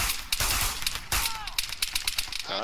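Bursts of rapid automatic gunfire in the video game Arma 3 during a gun game match, loud sharp volleys crackling in quick succession with brief gaps between strings of shots.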